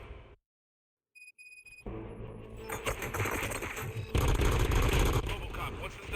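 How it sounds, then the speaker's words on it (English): Gunfire in the RoboCop Rogue City video game: after a near-silent pause, a dense, loud barrage of rapid shots and bangs builds and intensifies, with a voice speaking over the fighting. "Gunshots? What's going on?"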